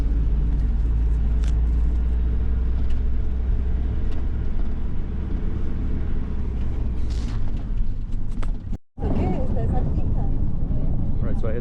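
Riding inside a packed bus, a loud steady low engine rumble fills the cabin with faint voices beneath, then a brief dropout before talking rises over the drone.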